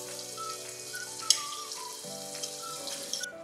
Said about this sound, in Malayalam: സവാള വഴറ്റാനിടാം.